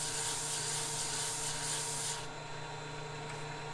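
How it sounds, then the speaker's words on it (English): Steady abrasive rubbing of a sanding stick on a wooden segmented turned vessel, a continuous scratchy hiss that stops abruptly near the end, leaving a low hum. "off to the proverbial sanding stick to clean that surface up"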